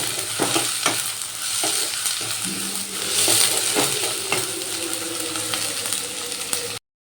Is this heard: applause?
no